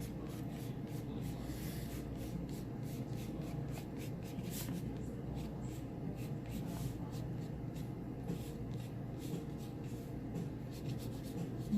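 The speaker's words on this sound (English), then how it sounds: "I'm going to draw." A giraffe is drawn on paper, soft scratchy pencil or marker strokes that rub and pause in a quiet irregular rhythm, close up, with no clear talking.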